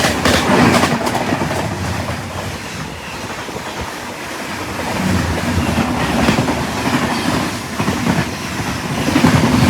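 Ayodhya Express 14206 from Delhi to Ayodhya running on the tracks near Barabanki–Gonda line, heard from on board as a steady loud rumble with rhythmic clickety-clack of wheels over rail joints throughout.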